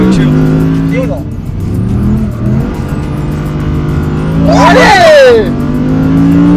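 V10 engine of an Audi R8 GT at full throttle on a circuit approaching a chicane, a loud steady engine drone with a sharp rising rev burst near the end, heard from the cabin with voices over it.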